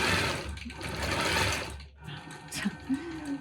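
A Gammill longarm quilting machine stitches a chicken quilt in a rapid, buzzing mechanical rhythm up close, then slows and stops near the end, leaving a few faint clicks.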